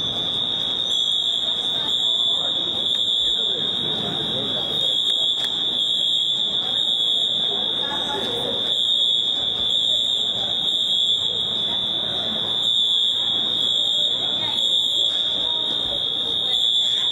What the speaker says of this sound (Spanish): comienzan a sonar las alarmas, las alertas acá de que ya estamos iniciando con esta maniobra